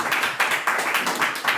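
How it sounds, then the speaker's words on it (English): Church congregation clapping for the church band, a brisk, fairly loud run of hand claps in uneven rhythm, close by and filling the space. "We'll give them a round of applause."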